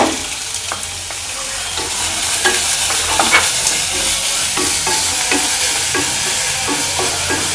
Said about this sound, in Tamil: இது நல்லா கோல்டன் ப்ரௌன் ஆகிற வரைக்கும் நல்லா நம்ம வதக்கிக்கணும்.